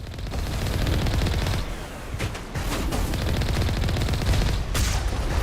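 In the Mass Effect video game, rapid gunfire and explosions crackle loudly in dense bursts, with a brief lull before the shooting resumes and a sharp blast near the end.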